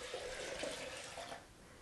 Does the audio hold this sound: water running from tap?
yes